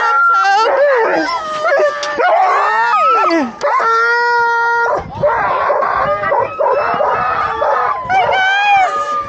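A pack of sled dogs at a sprint race start howls, yips and barks loudly and continuously, overlapping cries rising and falling close by, with some human voices mixed in.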